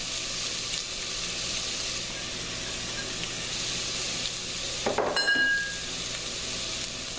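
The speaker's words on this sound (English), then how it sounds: "once we got the olive oil heated up, we'll just toss in the onions" Steady, even sizzling of hot olive oil in a pan for bolognese sauce runs throughout. Near the end a sudden louder burst of crackling and clatter marks chopped onions being tossed in before the frying settles again.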